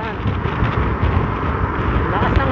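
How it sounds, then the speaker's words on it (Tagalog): Strong wind buffets the microphone on a flyover in Makati, Philippines, a constant low roar with gusty rumbling fluctuations throughout. "Lakas ng hangin"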